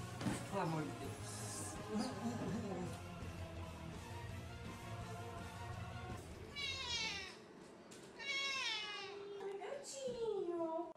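A cat meows in the video game Casarão dos Quetos, giving several drawn-out, wavering, plaintive cries that rise and fall. A player's voice carries through much of it, with louder meows near the end.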